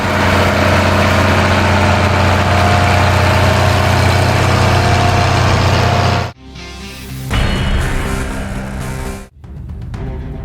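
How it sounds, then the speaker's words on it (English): A carrot harvester runs in the field, its picking belts lifting carrots and its cleaning rollers knocking off dirt. A loud, steady low engine drone and rumbling machinery are cut off abruptly, then give way to a rougher, uneven rattle. "a set of picking belts gently lifts the carrots from the soil. They are then transported to a series of cleaning rollers that effectively remove excess dirt and debris"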